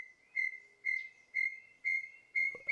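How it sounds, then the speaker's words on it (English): An excited bird gives a run of five clear, evenly spaced whistled calls, each a sharp bright note over near silence, with a brief rustle at the end. "listen to how excited this bird is getting for all those gift subs."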